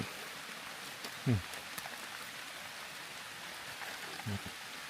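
Steady hiss of rain falling in a forest, even and continuous, with a couple of brief voice sounds breaking through.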